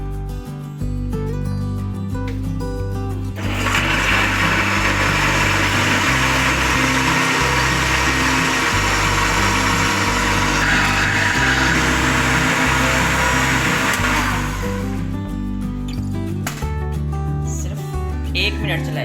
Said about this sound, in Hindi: सिर्फ 1 मिनट चलाई है हमने ब्लेंडर।